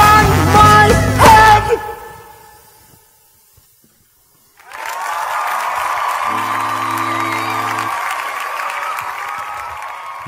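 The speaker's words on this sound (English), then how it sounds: "You hear that applause?" An audience applauds in Edmond J Safra Hall after a live song. Music fades into a brief near-silence, then steady, loud applause swells and holds for several seconds.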